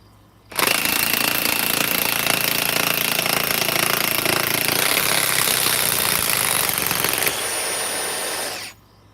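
A high-speed DeWalt 961 power tool nicknamed Godzilla starts abruptly and runs at a loud, steady, close whine for several seconds, then drops slightly in pitch before cutting off.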